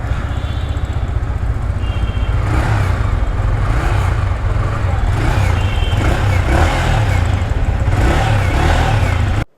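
A second-hand motorcycle, bought with about 800 km on it, runs steadily and loudly for the whole stretch, its low engine rumble constant with some higher mechanical and traffic-like noise layered above.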